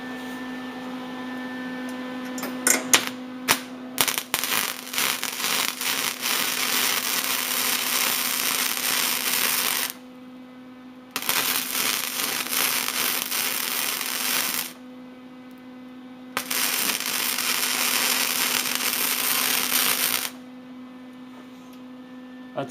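MIG welding bead laid down in letter shapes on metal, heard as a loud, steady electric crackling buzz in three long bursts with short silent pauses between them, starting after a few sputtering strikes.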